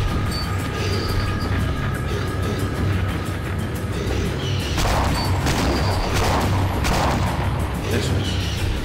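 Gunfire in the PSP horror game Silent Hill Origins, at the Riverside Motel: a steady stream of shots and impacts under continuous game music and ambience, with a denser burst of loud cracks near the end.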